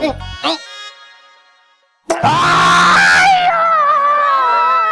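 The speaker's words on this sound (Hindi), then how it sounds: "अरे इधर क्यों चिल्ला रहे हो?" A man screams loudly in pain after a hammer strikes his finger: a sharp cry, a short silence, then a long, strained, sustained yell right up close, with other voices around it.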